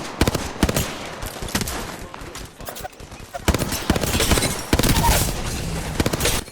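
Rapid bursts of gunfire from Apex Legends, with shotgun blasts and automatic fire crackling in clusters over a busy, loud battle backdrop, pausing briefly between volleys.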